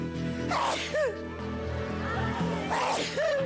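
A single person sneezes in a studio game-show setting, a sharp burst that repeats near the end, with background murmur and no clear talk.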